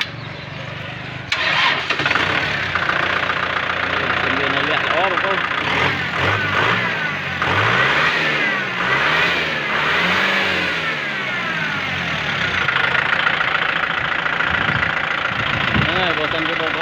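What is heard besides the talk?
Kubota M6040 tractor engine starting and revving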